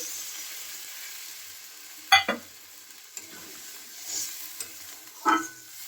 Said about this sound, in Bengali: এবার আমি জলটা দিয়ে দিচ্ছি পরিমাণ মতো